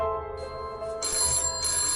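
A telephone bell rings in bright repeated bursts with short gaps, fairly close and alone, with no talk over it.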